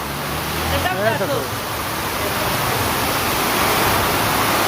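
Heavy rain pours steadily in Khadimabad, a dense, even hiss filling the whole stretch, with a brief voice rising near the start.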